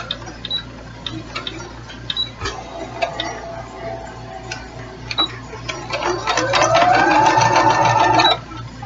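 A sewing machine stitches jelly roll quilt fabric in short bursts that build into a longer steady run, its mechanism whirring and rising in pitch near the end.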